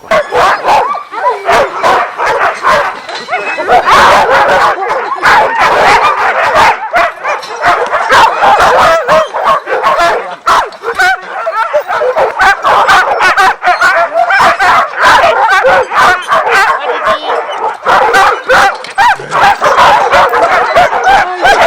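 Team of sled dogs at a dogsledding kennel barking and yipping continuously, a dense chorus of overlapping barks with some whimpers, close and loud throughout.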